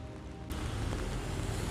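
Rain falls on a road near Yeniköy on the Bosphorus shore, a dense hiss of drops on wet pavement that swells louder after a brief quieter start and continues evenly, with no talking.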